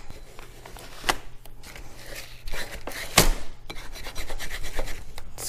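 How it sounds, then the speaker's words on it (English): A squeegee rubs a stencil down onto an Ikea glass container for etching, giving a close scraping and rubbing texture in irregular strokes, with a sharper scrape partway through and no talk. "Squeegee that down."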